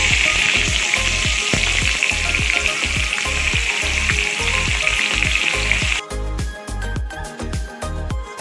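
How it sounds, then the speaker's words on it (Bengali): Chopped onions fry in hot oil in a wok with a loud, continuous close sizzle, punctuated by repeated scraping stirs, and the hiss drops off sharply near the end while the stirring knocks continue. "দিয়ে ভালো করে পেঁয়াজটাকে ব্রাউন করে ভেজে নেব।"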